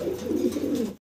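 A pigeon at a pigeon market coos close by, one soft, low, throaty warble that lasts about a second and then stops.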